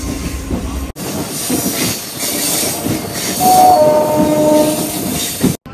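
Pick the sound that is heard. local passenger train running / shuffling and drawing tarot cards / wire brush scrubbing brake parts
local passenger train running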